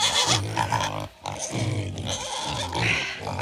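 Several pigs, including one with mange, grunt and oink loudly and close by in overlapping, throaty bursts with a brief lull in the middle.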